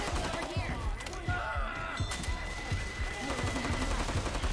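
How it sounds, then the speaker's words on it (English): Rapid bursts of gunfire from a zombie shooter video game crack in a steady rhythm of sharp, punchy shots, loud and close, with some game effects layered underneath. "I almost shot Jake"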